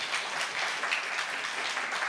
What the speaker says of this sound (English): So give yourselves a massive round of applause.